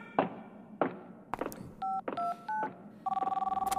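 In a cartoon hotel setting, a few thumps and a short run of beeping dial tones lead into a close, fast electronic telephone ring that trills at the end.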